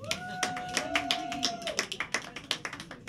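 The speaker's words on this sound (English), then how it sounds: "Let's clap again." Sparse, uneven handclaps from a small audience at a live gig in Berlin, fairly close, with a steady whistling feedback tone ringing over the first half.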